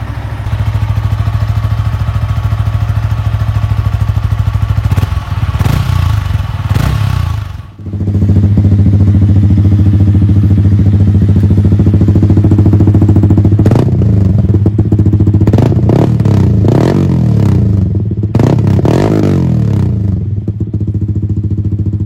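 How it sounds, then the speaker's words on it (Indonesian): A 2020 Yamaha XSR 155 retro motorcycle's exhaust, loud and close, idling with a steady low rumble, then blipped through several throaty revs with brief dips between them. "Mari kita dengerin suara dari knalpot XSR 155."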